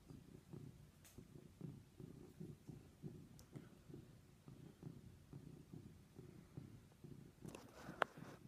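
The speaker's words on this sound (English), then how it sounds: "Listen to him purr." A cat purrs quietly close by on a table, a soft rhythmic rumble pulsing with each breath, with a few faint clicks and a brief rustle near the end.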